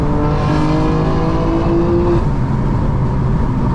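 A 2025 BMW M4 Competition xDrive engine drones loud and close at a steady roar from inside the car during a drive, its pitch holding and then easing slightly.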